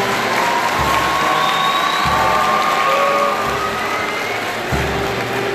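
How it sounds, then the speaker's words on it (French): A graduation ceremony audience applauds and cheers for a group of graduates, a dense continuous roar of clapping with a few low thumps and occasional whistles, loud and sustained throughout. "Merci de les applaudir."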